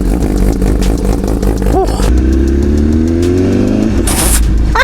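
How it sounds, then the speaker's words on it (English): A 2025 Honda CBR 1000RR-R Fireblade SP sportbike cold starts and revs, a loud, close engine note rising and falling through several throttle blips, with a high whine near the end. "Let's get a cold start on this bike."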